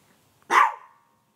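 A single sharp dog bark, close and loud, breaks the quiet and then fades quickly.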